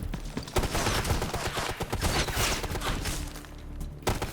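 Machine gun fire in Ghost Recon Future Soldier, a steady, dense rattle of shots in a fast rhythm, fairly close, with a brief lull before a final burst.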